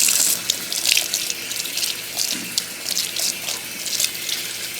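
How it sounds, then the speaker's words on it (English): Tap water runs steadily while rinsing red dye out of AliExpress AliQueen hair and a Sunny May closure, giving a close, continuous splashing gush with small surges. "now I'm just gonna rinse it out"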